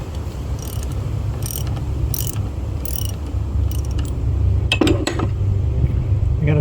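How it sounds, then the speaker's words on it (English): A wrench clicks in ratcheting bursts while tightening a nut during seal replacement on a SeaStar hydraulic boat steering system, with metallic clinks layered over a steady low hum. "All right, now we just tighten this down."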